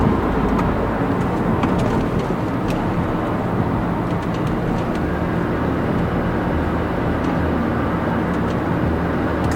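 A BMW F30 sedan fitted with F80 M3 control arms takes an off ramp at about 50, giving a continuous, loud wash of road and engine noise with no break.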